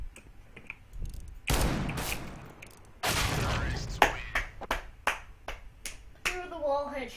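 R8 revolver shots in CS:GO crack out as a series of sharp, separate bangs, some spaced and some in quick succession, with bursts of game noise and a voice near the end.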